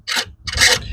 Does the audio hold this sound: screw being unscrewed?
yes